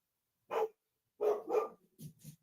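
A dog barks five times in quick, sharp bursts: one bark, a pause, two close barks, then two softer, lower ones, fairly close against a quiet background.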